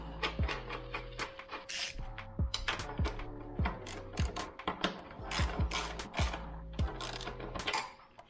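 Metal parts of an ebike rear wheel being handled while a derailleur guard is bolted up on the right side with washers: repeated close ratcheting and clanking, rhythmic and busy throughout, no talking.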